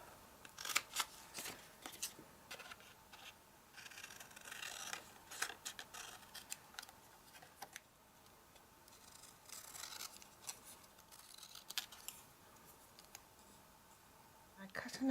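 Scissors cut paper strips for a faux label, with repeated crisp snips and rustling paper in irregular bursts, close and quiet.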